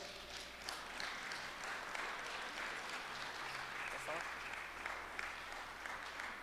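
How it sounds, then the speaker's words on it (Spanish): A church congregation at a Spanish-language service gives sustained applause, a soft, continuous wash of many hands clapping, heard at a distance over low background hum. "Dale otro fuerte aplauso a Dios."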